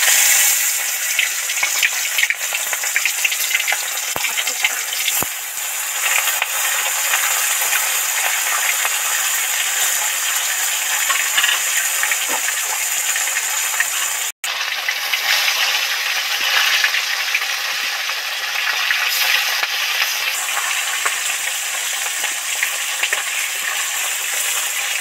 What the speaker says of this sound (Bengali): তেল তো গরম হয়েই গেছে, এবার আস্তে আস্তে মাছগুলো তেলের মধ্যে উঠিয়ে দেব।